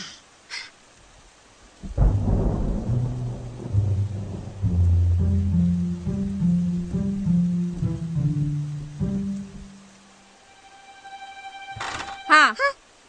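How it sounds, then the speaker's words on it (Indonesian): Rumbling thunder in a cartoon, a deep roll that swells, breaks into uneven booming pulses and fades over several seconds, followed by a brief sharp tonal effect near the end. "Hujan lebat tu."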